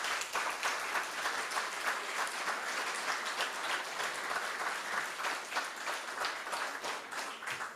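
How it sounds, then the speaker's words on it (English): Steady, dense applause from an audience at a candidates forum for Placer County District Two supervisor, hosted by a local chamber of commerce, filling the room evenly for about eight seconds with no talking over it. "So please give them a big round of applause."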